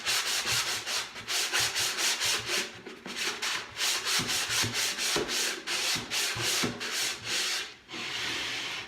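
Chalk-painted furniture is hand-sanded smooth with quick, rhythmic back-and-forth rubbing strokes, close and steady, in repeated bursts with brief pauses between.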